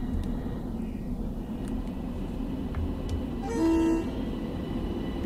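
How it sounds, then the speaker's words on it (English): In Train Sim World 2, a commuter train on the Harlem Line sounds its horn during a flyby. The horn gives one steady chord of about half a second over a low rumble of running train noise, and no one speaks. "let's just get a little sort of flyby with a horn."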